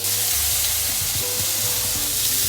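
Poultry pieces brown in a hot pan with reduced white wine for a green asparagus risotto, giving a loud, continuous close-up sizzle with small scraping stirs mixed in.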